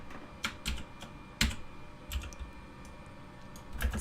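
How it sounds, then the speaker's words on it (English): Typing on a computer keyboard, with scattered sharp key clicks and a few louder spacebar and enter presses at irregular intervals, close and fairly quiet, no voices. "all you have to do is hit spacebar and enter"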